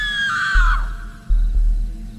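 A long, loud, human-sounding scream is heard up close as a horror sound effect. It slides downward and fades out, with a heavy low rumble continuing underneath.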